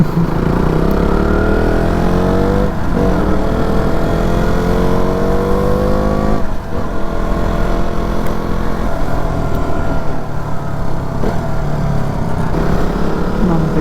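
Aprilia Tuono 457 motorcycle on a ride in Karnataka, engine loud and close with repeated rising revs and gear changes over steady wind and road noise.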